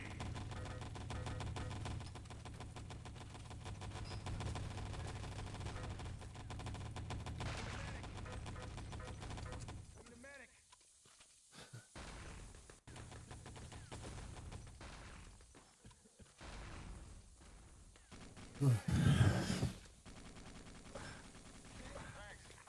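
Faint video-game gunfire and artillery rattle in scattered bursts under a steady mechanical hum, with quieter gaps and a sharper, louder blast near the end; voices speak intermittently.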